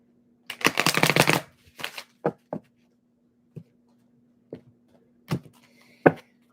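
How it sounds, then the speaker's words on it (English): A deck of tarot cards is riffled in one quick burst, followed by several soft, separate taps and flicks as single cards are handled, all close and with no talking. "One more shuffle for Libras."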